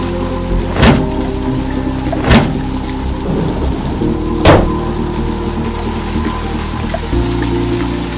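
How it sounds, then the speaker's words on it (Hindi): Steady heavy rain hisses throughout, broken by three sharp, loud cracks of thunder close by. "आसमान में तेज बिजली कड़की और बारिश जो थोड़ी थमी थी एकाएक फिर झमाझम बरसने लगी।"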